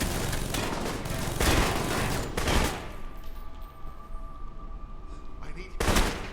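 Automated turrets in the video game Alpha Protocol firing machine guns, loud dense bursts of rapid gunfire that stop and start, with a quieter gap between bursts and a final burst at the end.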